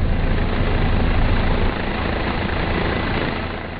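A helicopter landing in Guatemala, its engine and rotor producing a loud, steady low roar that eases slightly partway through and fades a little toward the end, with no voices.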